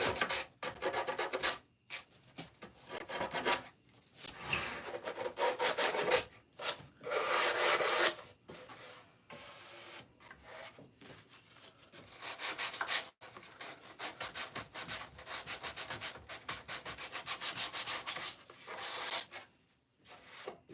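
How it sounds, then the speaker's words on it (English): Wood is hand sanded in a woodworking shop: long, raspy back-and-forth strokes of abrasive paper come in uneven bursts with short pauses between them, close and fairly steady. "Sanding this down."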